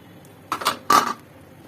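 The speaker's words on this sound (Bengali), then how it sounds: "কিছু থালাবাটিও জমেছিল সেটাও ধুয়ে নিলাম।" Dishes and pots being washed in a home kitchen during cooking: two short bursts of clinking and clattering crockery, close by, separated by a brief pause, with no voices.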